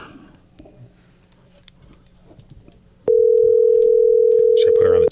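Telephone dial tone during an outgoing call, a loud steady tone that starts abruptly after quiet room sound and holds for about two seconds.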